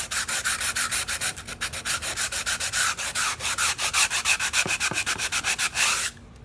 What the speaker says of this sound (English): you make a sanding block, and that will help keep it nice and straight too when you're sanding